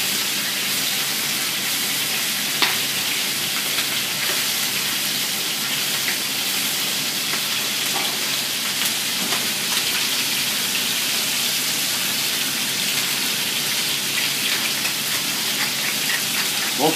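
Beans and chorizo frying and starting to boil in a pan, a steady dense sizzle and bubbling hiss with occasional small pops, close and continuous throughout with no talking.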